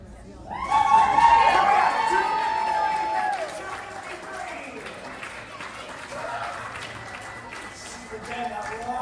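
Crowd cheering and applauding at a charity paddle-raise auction during a fundraising gala night, a loud burst that rises quickly, stays strong for a few seconds, then tapers into lingering chatter and scattered claps.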